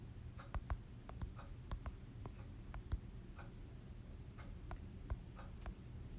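Keyboard keys tapped in short irregular bursts, close and fairly quiet over a low steady background hum, with no talking.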